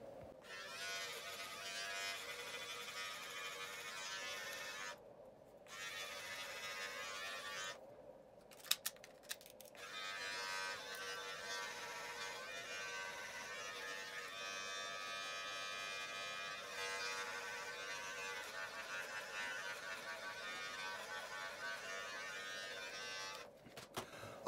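An electric trimmer buzzes close and quietly for most of the time, cleaning up beard and hair lines, with a few brief pauses and light clicks in between.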